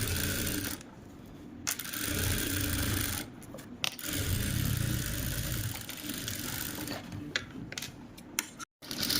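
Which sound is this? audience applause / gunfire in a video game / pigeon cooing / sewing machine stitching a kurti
sewing machine stitching a kurti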